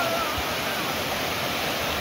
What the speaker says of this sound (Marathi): गावाजवळील सुटणा व कडुळी ओढ्याला सध्या पूर स्थिती निर्माण झाली आहे